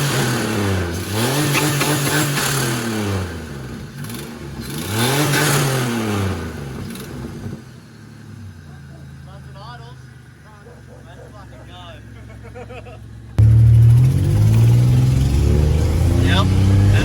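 A turbocharged car engine revs up and down in repeated loud sweeps, then idles under quieter chatter and rises again abruptly near the end, with people talking throughout.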